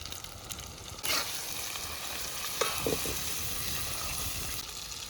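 Tomatoes tipped into a hot pan with ginger-garlic paste for a Telangana-style goat head curry, a sudden loud sizzle that settles into steady close frying, with a few stirring scrapes and no talk.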